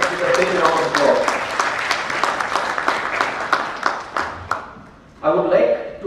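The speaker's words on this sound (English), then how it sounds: "We would like to welcome him with a big round of applause." Clapping from a room of guests welcoming an author at a book launch, a ragged round of hands that thins out and stops, followed by a speaker beginning to talk.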